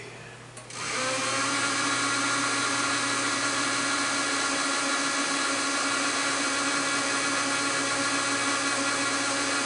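A steady, loud high-pitched milling machine whine starts abruptly and holds constant, the cutter taking a light ten-thousandths scratch pass across metal.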